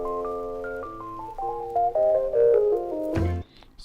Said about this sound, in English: the significant electro piano sample or organ sample